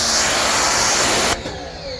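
An electric pressure washer sprays aluminum house siding, a loud, steady broadband hiss of water jet against panels that cuts off abruptly near the end, leaving a softer background.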